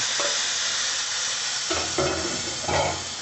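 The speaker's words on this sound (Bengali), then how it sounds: "এবার চিকেনটাকে ঢাকা দিয়ে পাঁচ মিনিট মতো হাই ফ্লেমে রান্না হতে দেবো" Marinated chicken cooking covered in a pan on high flame for a Bengali chicken curry, a steady loud sizzle and hiss throughout with a few brief stirring or lid scrapes near the end.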